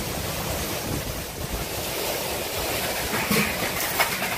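Strong wind roaring without a break, a dense broadband rush that swells and gusts near the microphone for the whole stretch, with a few brief bright knocks near the end.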